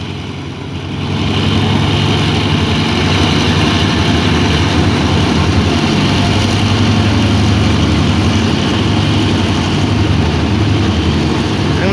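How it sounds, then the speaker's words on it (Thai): A diesel locomotive hauling the Bangkok–Chiang Mai special express No. 13 revs as the train departs, a heavy, continuous low engine rumble that rises early on and then holds loud and steady, with no talking. "ฟังเสียงที่เร่งเครื่องนะครับผม"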